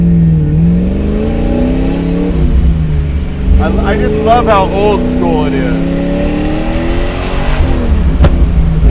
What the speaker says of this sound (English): you can tell that's a supercharged motor